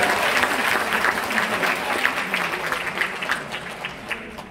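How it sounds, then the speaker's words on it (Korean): A festival crowd in an indoor art hall at the Sorae Port Festival applauds after a stage performance, dense sustained clapping that slowly fades toward the end. "마지막 무대를 책임져 주신 우리 최연아 씨에게 다시 한번 박수를 부탁드리겠습니다"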